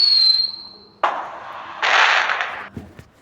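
Fireworks in a New Year fireworks video game: a whistling launch gives way to two crackling bursts that spread and fade, then a couple of short pops near the end.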